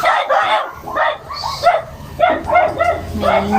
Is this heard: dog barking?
yes